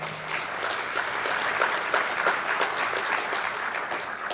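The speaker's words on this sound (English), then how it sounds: "So let's give Andrew a round of applause." An awards-ceremony audience applauds an absent student award recipient, a steady wash of many hands clapping at moderate, even loudness throughout, with no talk.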